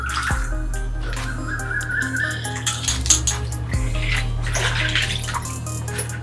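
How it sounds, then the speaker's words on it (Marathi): Fresh spinach leaves being rubbed and rinsed by hand in a basin of water, giving steady splashing and swishing close by, with a few brief knocks, and no talking. "चोळून चोळून व्यवस्थित धुतलेला आहे हा पालक"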